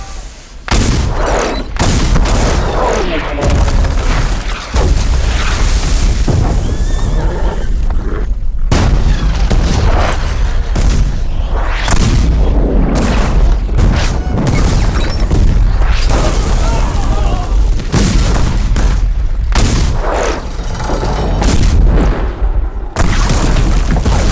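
Cannons pound a fort gate in a sustained, heavy barrage of loud booms and crashing blasts that follow one another with barely a pause, and faint shouting is mixed into the din.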